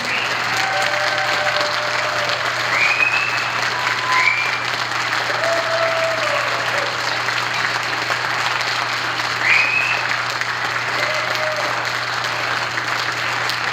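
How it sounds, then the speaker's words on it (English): Steady audience applause for the Kinsella Irish dancers at a family program, sustained clapping throughout with occasional whoops rising above it. "One more round of applause for Kinsella Irish dancers"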